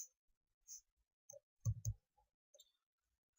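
Computer mouse clicks while working in structural analysis software on an arch bridge model: a few quiet, crisp clicks, with a double click standing out in the middle against near silence.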